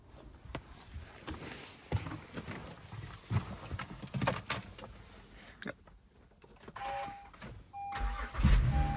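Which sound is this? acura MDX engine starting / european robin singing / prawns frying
acura MDX engine starting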